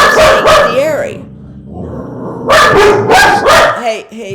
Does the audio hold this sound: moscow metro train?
no